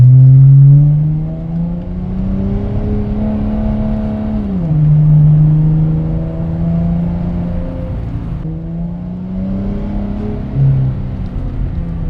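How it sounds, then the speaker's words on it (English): A 2018 Dodge Challenger SXT Plus all-wheel-drive muscle car accelerating, with a loud, steady engine drone that climbs and shifts in pitch over about twelve seconds, heard close from inside and without talking. "It even has the burbles when I'm like it's staying up there and I'm going fast."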